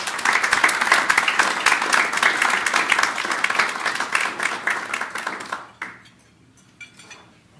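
An audience applauds to welcome Justice Stephen Pallaras QC to the stage, steady dense clapping from a room full of people that fades away into near quiet, followed by a few faint scattered sounds.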